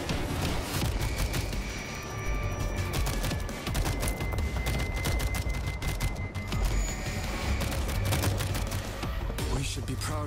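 An auto turret fires in the zombie shooter World War Z, with dense rapid bursts of gunfire and booms running nonstop and voices mixed in beneath the shooting.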